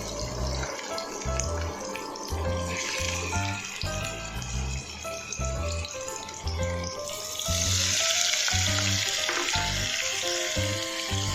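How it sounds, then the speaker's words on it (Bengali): Paneer cubes frying lightly in a pan make a continuous hiss that grows fuller partway through, running beneath prominent background music. "হালকা করে ভেজে নেব"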